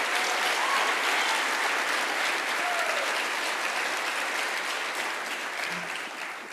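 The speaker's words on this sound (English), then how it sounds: "how about a round of applause for those homicide detectives that work long hours to make that work?" A large audience applauds during Mayor Tim Kelly's 2023 State of the City address, honoring homicide detectives. The clapping is broad, sustained and fairly distant, easing slightly toward the end.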